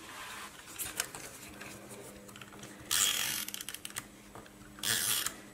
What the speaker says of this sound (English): So I might just glue the tab down now with my glue tape roller.